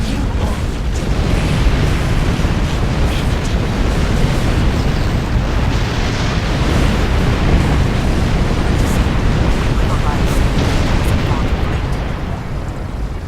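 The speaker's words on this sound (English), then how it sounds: "there goes a heavy plasma torpedo, and boom" A heavy plasma torpedo detonates in the Star Trek Online space game, a loud, sustained roaring blast that fills the whole stretch with dense rumbling energy and tapers slightly at the end, with talk woven through it.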